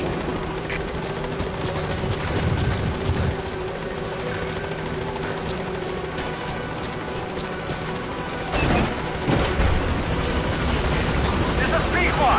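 B-Quad helicopter from Metal Gear Solid V coming in to land, a steady dense rotor and turbine drone throughout, with a couple of heavier thumping surges near the end.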